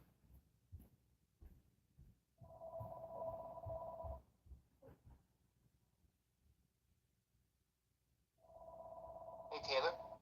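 Telephone ringing in two bursts of electronic trilling a few seconds apart, with people talking quietly in the room between the rings.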